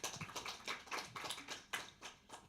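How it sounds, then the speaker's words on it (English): A small group clapping, with irregular bursts of applause spread across the clip, fairly soft and a little distant. "Can we clap for her?"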